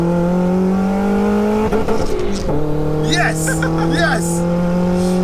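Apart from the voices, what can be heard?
turbocharged 1L Nissan Micra accelerating in second gear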